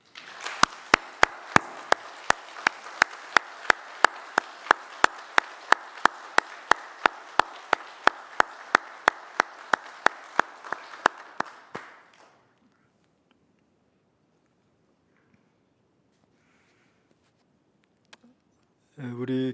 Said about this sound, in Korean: 우리 모두 우리 감사의 박수 한번 하겠습니다